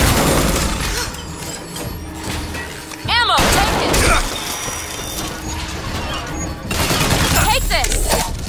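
Gunfire and mechanical effects from the video game Bioshock Infinite: loud, dense bursts of shots and booms with whooshing sweeps, close and continuous, with a voice talking over part of it.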